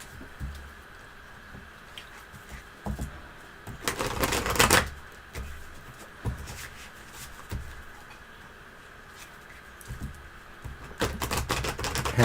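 Playing cards being shuffled at a table, with a couple of bursts of quick riffling snaps and softer handling clicks between them. The sound is close and fairly quiet, and no one talks.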